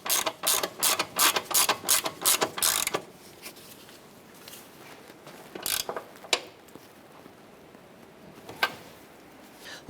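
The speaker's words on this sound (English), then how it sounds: "Let's go ahead and tighten down our upper ball joint nut here." A hand ratchet tightens the upper ball joint nut on a 2008–2012 Honda Accord's driver-side suspension knuckle: about nine quick, evenly spaced clicking strokes, then a few sparse, softer clicks and a pause.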